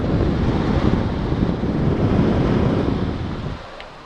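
GE Zoneline HVAC unit in a Courtyard by Marriott hotel room, running with a steady broadband rush of blowing air, close and constant, easing off slightly near the end.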